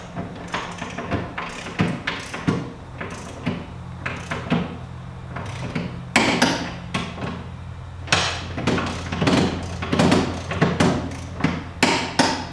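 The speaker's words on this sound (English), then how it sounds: "tighten the 2 locking screws on the back of the hitch so that it can't loosen up" Locking screws on the back of an Andersen Ultimate 5th wheel hitch being tightened, a close series of sharp metallic knocks and clanks in an irregular rhythm, loud and without talk.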